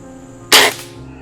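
A single sharp crack from a Benjamin Sterling HR81 bolt-action air rifle, loud and close, cutting in abruptly and decaying over a fraction of a second against a low steady background.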